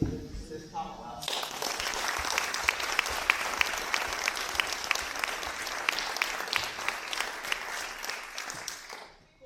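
Applause from an audience at a Pennsylvania DCNR event celebrating Smokey Bear's 80th birthday, honoring public servants of public lands; dense steady clapping starts after a brief pause, holds loud and even for about eight seconds, then fades out.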